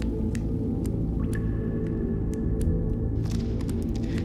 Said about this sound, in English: I hear the sound of running water.